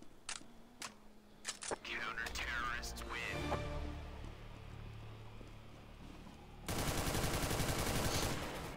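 Gunfire in Counter-Strike: Global Offensive: a few sharp separate shots near the start, then a loud sustained burst of rapid automatic fire at the end, with muffled game sounds and voices in between.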